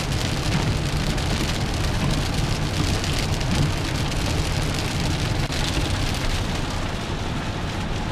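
Steady rain drums on a 2025 Honda Odyssey minivan, a dense, even patter with no break, heard from inside the vehicle, with no talking.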